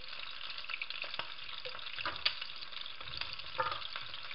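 Oxtail pieces frying in hot oil in a pan, destined for a sofrito, give a steady close sizzle and crackle with occasional sharper pops and a few stirring clatters.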